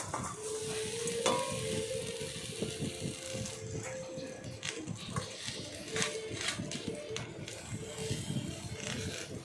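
Kharkhon leaves with black cumin and salt dry-fry without oil in a wok, giving a steady soft sizzle and crackle with occasional scraping stirs throughout.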